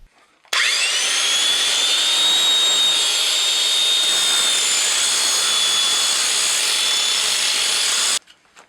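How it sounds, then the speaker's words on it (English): An angle grinder fitted with a grinding wheel grinds down a sand point well pipe clamped in a vise, a loud, steady, high-pitched abrasive whine that runs unbroken for about eight seconds, then stops. "use this angle grinder with a grinding wheel on it to grind it down"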